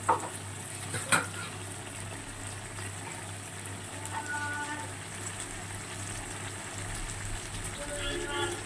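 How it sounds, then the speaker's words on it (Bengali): Potato and pointed gourd frying in a pan with spice paste, a steady low sizzle running throughout with a couple of sharp clinks near the start. "দেখো আলু আর পটলটা খুব ভালো করে ভাজা হয়ে গেছে"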